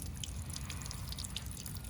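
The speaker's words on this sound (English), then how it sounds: "the pot is draining a lot of water" Water drains out of the holes of a saturated bonsai pot as a steady, soft trickle of drips, close by and faint, with no one talking.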